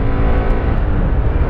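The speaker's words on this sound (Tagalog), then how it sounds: "Pag nasa high RPM na, dun siya parang gigil na gigil yung makina." FKM Venture 150 motorcycle engine held at high RPM, a loud, steady, close buzzing drone that continues without a break and with no talk over it.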